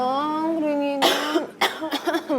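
A sick child coughs in a series of harsh bursts, following a drawn-out whining, voiced sound; the coughs are loud and close, several in quick succession.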